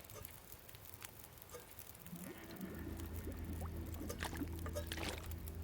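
Water pours steadily near a campfire in the survival game The Long Dark, a soft patter that swells into a continuous close trickle and runs to the end.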